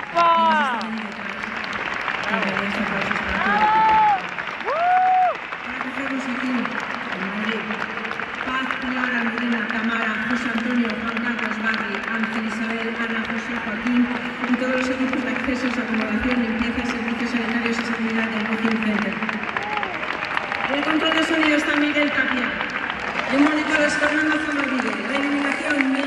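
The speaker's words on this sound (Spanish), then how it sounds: "Así que les damos un aplauso y un agradecimiento enorme" Sustained applause and cheering from a large concert crowd at Madrid's WiZink Center after a show, a dense roar of clapping that runs under a voice addressing the audience.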